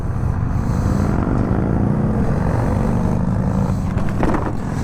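Triumph Speed Triple 1200 RS super naked motorcycle being ridden, a steady loud engine drone with heavy wind rush throughout and a brief rise in pitch near the end.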